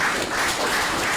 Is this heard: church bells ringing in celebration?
no